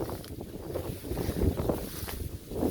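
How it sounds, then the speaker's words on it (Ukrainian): Gusty wind blowing over an open field, buffeting the microphone outdoors, a low rumbling roar that rises and falls in uneven surges. "Вітер, звісно, качає добре поле."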